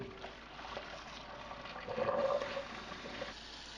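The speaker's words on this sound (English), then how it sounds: "I'm going to pour off as much water as I can and then fill it with cold water" Water poured from a pot of cooked lasagna noodles and cold tap water run back in, a soft continuous splashing and trickling that swells louder midway, close by.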